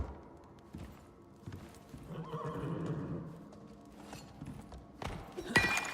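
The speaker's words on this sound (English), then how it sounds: "Yes, you're a big, strong horsey." Horse in a video game neighing with a drawn-out whinny, accompanied by scattered hoofbeats and thuds, moderate in loudness with a sharper burst of sound near the end.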